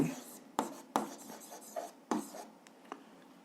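Chalk or marker writes on a board while an algebra equation is solved, with several quick scratchy strokes and taps amid soft, close sounds; a voice speaks briefly.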